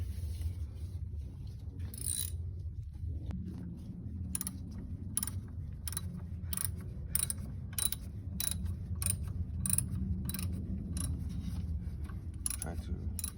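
A hand ratchet clicks in a steady run of sharp, close ticks while a power steering pump bolt is tightened on a 1985 Nissan 300ZX, over a low constant hum.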